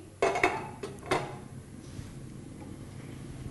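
A pan set down on a kitchen stove, a few close metallic clanks and scrapes in the first second, then a faint quiet room.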